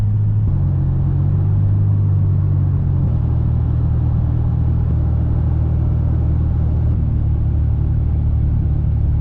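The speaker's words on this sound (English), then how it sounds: "it feels nice to be able to drive a little bit faster" A car cruises along an open road at steady speed, its engine and tyre roar forming a continuous loud low rumble with slight shifts in pitch as it travels.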